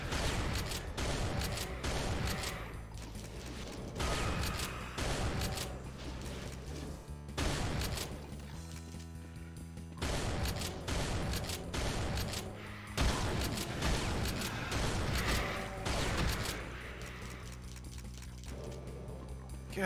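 Shotgun blasts in Brutal Doom, heavy booming shots repeating throughout alongside clanking mechanical game sounds, loud and dense with no speech.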